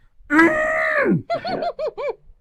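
A voice mimics a childlike scream after losing a video game, a long strained wail that drops away, followed by several short whimpering cries.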